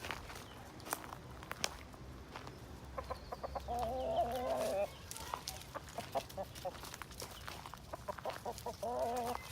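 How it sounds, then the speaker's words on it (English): Rooster and backyard chickens in a shady tree-cave spot of a yard, with a few short clucking bursts around the middle and end over rustling, footsteps and faint background noise, with a person speaking briefly. "There's the rooster."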